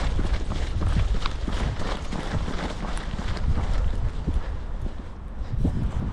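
Running footsteps captured on a GoPro 11 Black action camera, rapid rhythmic thumps under heavy, continuous wind buffeting on the microphone.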